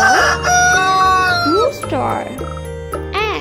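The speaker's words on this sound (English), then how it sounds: "rooster." A rooster crows loudly and close, a stretched rising-and-falling call, with clucking and a voice mixed in near the end.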